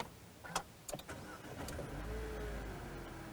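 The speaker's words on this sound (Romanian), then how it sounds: "Iar pentru asta va trebui să pornesc un pic motorul." A new Renault Clio's engine starts quietly after a few faint clicks, then settles into a low, steady idle rumble without any talking.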